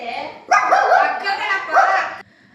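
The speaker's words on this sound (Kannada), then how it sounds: "ಅದು ನಾಯಿ ಮರಿ ನನಗೆ ಬೊಗಳುತ್ತೈತೆ" Puppy barking in short yappy bursts, fairly close and loud, with a voice audible alongside.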